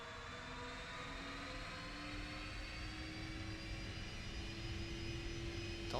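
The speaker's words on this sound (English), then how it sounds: "Don't think I like the engine noises" Simulated Flight Factor 767-300 jet engines in X-Plane 11 at Tulsa airport: a continuous turbine whine with a steady hum beneath, holding at a moderate level throughout.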